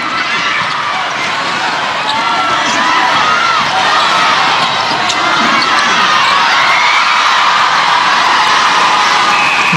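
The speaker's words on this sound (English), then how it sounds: "the crowd is going wild" The crowd at a SEA Games netball final between Malaysia and Singapore cheers wildly in a dense, loud, sustained roar of shouts and whoops, with the ball bouncing on court underneath.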